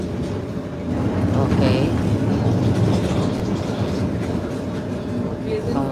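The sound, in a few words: passing train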